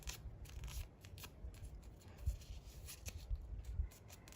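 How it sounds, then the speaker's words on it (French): Quiet, close papery rustles and soft creasing scrapes as a sheet of paper is folded into three parts, with irregular small ticks and brushes spread across a few seconds. "Vous pliez votre papier en 3 morceaux."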